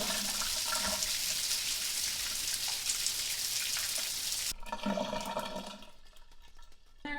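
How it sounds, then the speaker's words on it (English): Loud shower drain gulping water away, a dense rushing, splattering wash that shifts midway into a gurgling, thinner drainage sound up close. "the drain on this thing is super loud"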